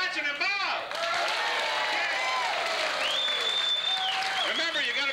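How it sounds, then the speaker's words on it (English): A television studio audience applauds and cheers in a steady wash of clapping, while a voice rises and swoops over it. "I gotta see hands clapping."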